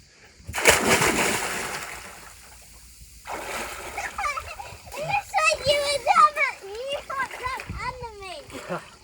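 A person jumps into turquoise sea water off a boat near Corfu, landing with one loud, sharp splash followed by a short wash of churning water, then a child and others chatter nearby over light water sounds.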